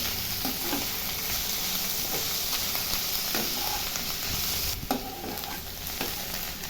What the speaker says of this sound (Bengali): নেড়ে নিয়ে এবার জল ঝরিয়ে রাখা মাশরুমটা দিয়ে দেবো, দিয়ে একটু নেড়ে নেব।